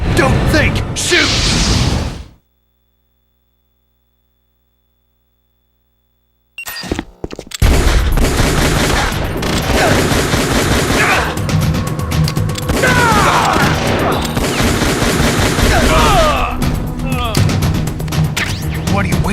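Gunfire and crashing impacts in Metal Gear Solid: The Twin Snakes on the Nintendo GameCube play loud and dense, mixed with game sounds. A stretch of silence interrupts them before the action resumes.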